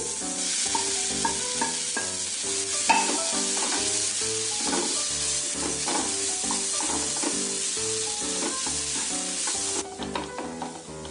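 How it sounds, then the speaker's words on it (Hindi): Potatoes drop into a hot, sizzling masala for an aloo matar bread roll filling and get stirred, a continuous close fry hiss broken by spoon scrapes and clinks against the pan, loud and steady. "अब इसमें जाएंगे ये आलू"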